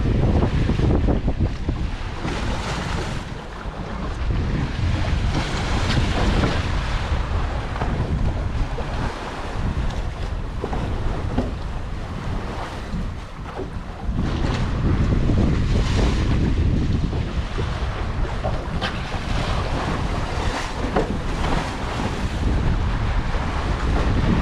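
A sailboat under way at sea, with loud continuous wind buffeting the microphone and waves rushing and splashing against the hull, steady throughout with no voices.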